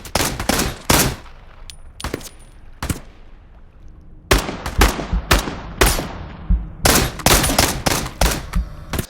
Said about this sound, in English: Listen to these gun sounds,